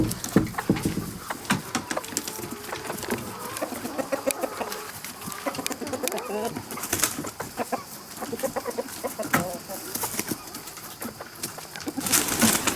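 A flock of chickens clucks and calls in a new coop on their first night, many overlapping birds busy and close throughout, with bursts of louder squawks and brief flaps.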